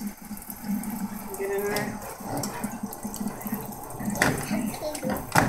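Tap water runs steadily as hands are rinsed during home baking. The flow is moderate and continuous, with children's voices talking over it.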